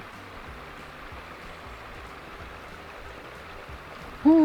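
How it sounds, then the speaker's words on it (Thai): A stream flows with a faint, continuous watery rush, joined at the very end by a brief louder tone. "แต่ก็ยังมีน้ำอยู่เด้อค่ะมีน้ำไหลอยู่ไหลแบบนี้แหละตลอดปีค่ะ"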